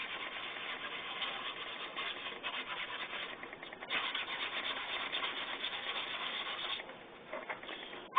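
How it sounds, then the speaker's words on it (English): Sandpaper rubs over a painted Black Ranger cosplay helmet in steady back-and-forth strokes, a close, soft scratching that pauses briefly partway through and then resumes. "So, a little more sandpaper up here."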